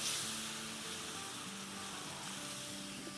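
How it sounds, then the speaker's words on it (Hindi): A noodle chaat mixture is sautéed in a pan with a steady sizzle and faint stirring scrapes, close up, while soft tonal hums run beneath and no one speaks. "और ज़रा सा सौटे करेंगे।"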